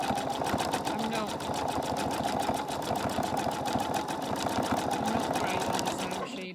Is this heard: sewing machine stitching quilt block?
yes